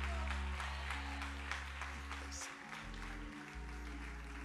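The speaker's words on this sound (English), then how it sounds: "Would you clap your hands for this amazing?" Church congregation clapping hands, a steady wash of applause under organ or music tones, fairly faint and distant throughout.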